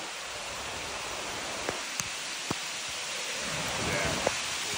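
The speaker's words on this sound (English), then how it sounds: "it just so happened to start raining when we came down here" Steady hiss of rain falling outdoors, with a few faint taps and thumps scattered through the continuous wash of water.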